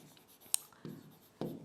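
Pen or chalk strokes scratch out a handwritten example, a few brief scratchy bursts with quiet gaps between them, close and soft.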